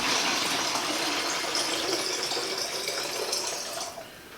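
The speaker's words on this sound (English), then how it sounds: "just rinse it out one more time" Water rushing steadily over acorn flour during a rinse, a broad continuous splashing gush that runs unbroken and eases off slightly near the end.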